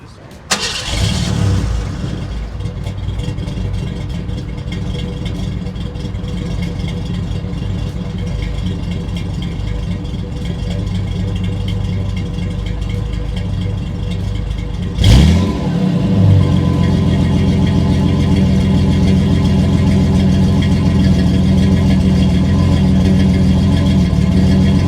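A 1984 Ford Bronco II with a 2.9 liter V6 and automatic transmission cranks and starts partway through, then settles into a loud, steady idle close by with a constant engine drone.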